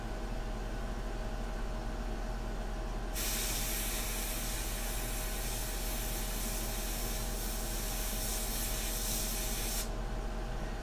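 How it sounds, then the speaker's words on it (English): An airbrush spraying India ink for a portrait painting gives a steady, loud hiss that holds for about seven seconds over a constant compressor-like drone, with no talking. "So what happens if we just spray for a little while longer?"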